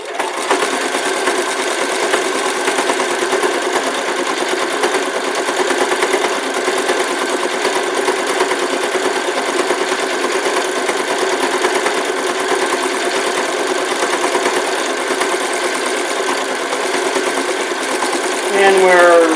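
A sewing machine runs a continuous decorative stitch on an elf hat, a steady close mechanical hum with rapid needle rhythm throughout, ending with a brief change as it stops.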